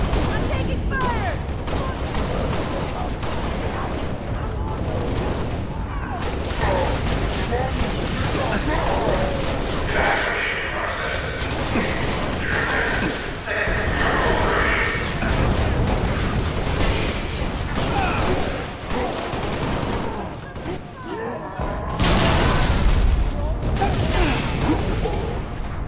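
Dense, continuous gunfire and explosions from the video game Halo, loud and sustained with bursts and booms throughout, voices shouting underneath.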